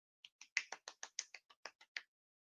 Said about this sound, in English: that's the sound of one hand clapping